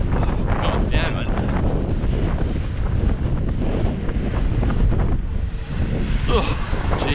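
Strong headwind roars and buffets across the microphone while riding a Xiaomi Pro 2 electric scooter. The rush is loud and constant from start to finish.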